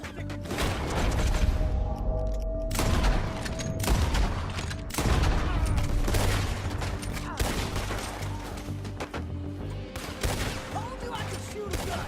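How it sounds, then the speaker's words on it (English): Gunfire in the Western video game Red Dead Redemption 2: repeated loud shots and volleys in irregular bursts over a rumbling background, with some speech mixed in. "Told you I could shoot a gun, didn't I?"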